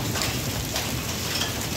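A heavy, unbroken wash of rain mixed with hailstones falls on the ground in Bathi Qaisrani, an even, close hiss with no talking over it.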